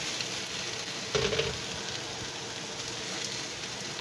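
Vegetables for a Pittsburgh cheesesteak hoagie sauté on a hot griddle, giving a steady, even sizzle throughout with one brief louder scrape or clatter near the middle.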